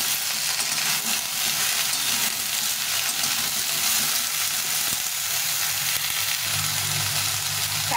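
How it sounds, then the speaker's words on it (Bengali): Okra frying in a pan with gravy, giving a steady, dense sizzle that runs unbroken and fairly loud throughout, with no voices. "সবজিটা কিছুটা ভাজা হয়ে গেছে।"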